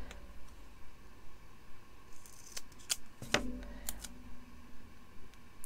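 Scissors snipping small pieces of double-sided tape for a handmade card, a few quiet crisp clicks and cuts heard close up against a faint background hiss, no voices.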